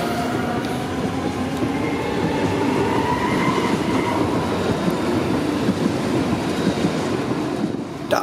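A class 423 S-Bahn electric multiple unit pulls into Frankfurt Hauptbahnhof's deep underground platform with a loud, steady rumble and a rising wheel whine that echo in the tunnel. No voices are heard.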